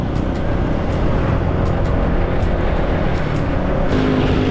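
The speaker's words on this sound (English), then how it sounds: "This would have to be the busiest traffic at the fastest pace I've ever done." Busy, fast road traffic full of motorbikes in Vietnam makes a dense, steady engine roar with wind rush, loud and unbroken, heard while riding along with no one talking.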